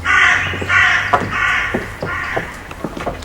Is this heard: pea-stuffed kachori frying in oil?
no